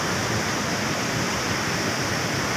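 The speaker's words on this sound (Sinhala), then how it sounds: "ඉතින් ඔන්න තමයි දූවිලි ඇල්ල තියෙන්නේ." The Duwili Ella waterfall roars in a steady, loud wash of rushing water that fills the whole moment without any break.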